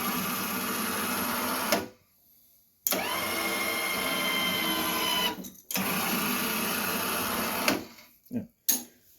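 A flail mower on a Cub tractor whirs loudly in three sustained runs, each ending abruptly in near silence, with a few short sputtering bursts at the end.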